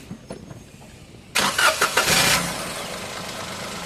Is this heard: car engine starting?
yes